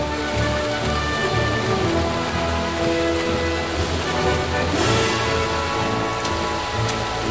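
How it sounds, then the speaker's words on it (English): Steady rain falls during a hike at Kaau Crater, with a dense, continuous hiss of drops spread evenly through the whole stretch, close and fairly loud, with no voices. "We're starting the hike in the rain now."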